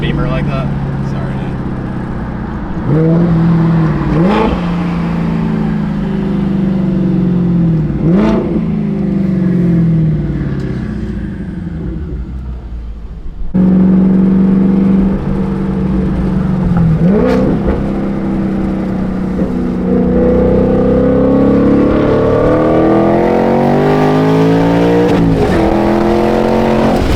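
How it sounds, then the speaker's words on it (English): A 2024 Ford Mustang fitted with air-cooled turbos revs repeatedly, its engine rising and falling in close, loud sweeps with turbo whir, while people talk over it. "Well, the turbos definitely still function."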